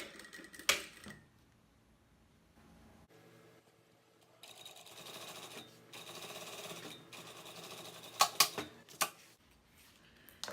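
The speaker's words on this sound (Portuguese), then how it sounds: "vamos passar uma costura aqui para poder segurar" A sewing machine stitches a fabric cover for a vaccination card, running in short bursts between quiet pauses and sharp clicks, close but fairly soft with no talking.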